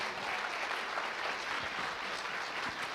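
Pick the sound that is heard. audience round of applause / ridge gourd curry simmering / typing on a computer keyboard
audience round of applause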